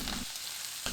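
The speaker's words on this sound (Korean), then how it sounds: "청양고추, 양념 넣고 1분 30초 볶아주세요" Enoki mushrooms and Vienna sausages with Cheongyang chili and a gochujang and oyster sauce mix stir-fry in a pan, giving a short burst of close sizzling that briefly softens in the middle before flaring up again.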